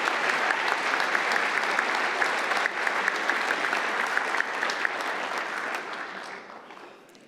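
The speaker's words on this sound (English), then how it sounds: "Another round of applause for the newest member of our police department." Audience applause at a police swearing-in ceremony, greeting the department's newest officer: steady, dense clapping from a sizable crowd that holds for several seconds, then thins and fades out.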